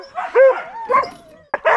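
Sled dogs yelp, whine and bark excitedly in short bursts before a ride on the frozen lakes near Rovaniemi in the Arctic Circle, loud and close, with brief pauses between calls.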